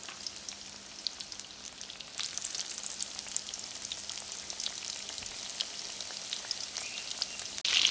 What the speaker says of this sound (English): While our steak is cooking